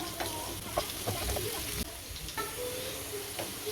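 Chopped onion and garlic sauté in a pan for Tamil fish kulambu, a soft close sizzle with intermittent scraping stirs and light clinks, fairly quiet and steady.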